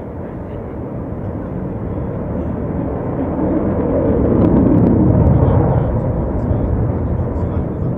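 An Avro Vulcan B.2 bomber roars at the RIAT Fairford 2012 air show, a loud, continuous rumbling jet noise that swells slightly midway.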